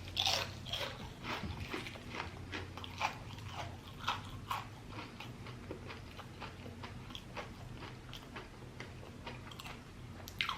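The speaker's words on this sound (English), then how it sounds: "Crunch down that onion ring." Loud, close crunching of battered onion rings at a Red Robin meal, with repeated sharp bites and chewing crackles in an irregular rhythm, over a low background murmur with no speech.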